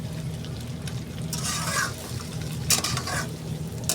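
Paneer fries in a pan to turn red-brown, with a low background sizzle and a couple of short bursts of scraping and stirring, close and fairly quiet.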